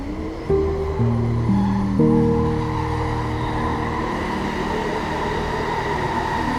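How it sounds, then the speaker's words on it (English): Train wheels rolling on rails in a sleep-story ambience of a snowy night aboard a 1910 Trans-Siberian Express, a steady low rumble with tonal hums that shift and settle, no voices. "The rails still sing their low, metallic lullaby beneath the floor."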